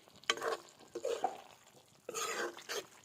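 Boiled chicken with cumin powder being stirred in a pan, giving a few short scraping and shuffling bursts separated by pauses, fairly quiet and close.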